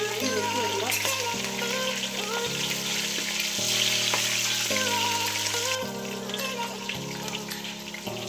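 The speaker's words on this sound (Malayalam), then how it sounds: "കടുകും മുളകും കൂടി ഇട്ട് കൊടുത്ത് കടുക് പൊട്ടി വരട്ടെ" Steady crackling and spluttering of mustard seeds and chillies popping in hot oil, close and continuous throughout.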